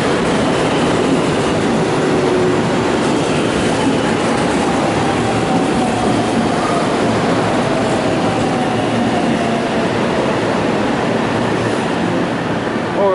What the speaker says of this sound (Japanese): 電車が入ってまいります。 この列車は折り返し普通列車